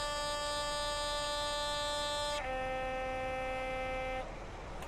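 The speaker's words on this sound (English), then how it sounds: "Whistle again" A locomotive whistle in Train Simulator 2018 on the Carlisle to Glasgow route blows a long, steady multi-tone blast heard from inside the cab, shifting pitch midway and then cutting off.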